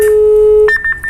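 An INRICO T-710A two-way POC radio sounds its calling tone: a long steady beep, then a short run of higher, evenly spaced tone pulses, clear and close with no talk.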